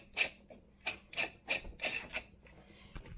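A metal canning ring is twisted onto a glass jar lid in several short, close gritty rasps, each quick scrape following the last over about three seconds.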